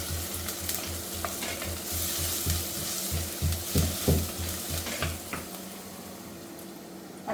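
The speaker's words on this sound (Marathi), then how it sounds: "आता टाकते मी कढीपत्ता" Curry leaves crackle and sizzle in hot oil for bitter gourd curry, a steady close hiss of frying with rhythmic stirring and scraping in the pan, no speech over it.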